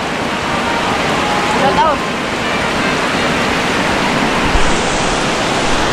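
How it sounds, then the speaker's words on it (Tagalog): Steady, dense hiss of a heavy downpour fills the scene, with a voice briefly calling out over the rain. "Grabe mga kabungot, ang lakas ng ulan"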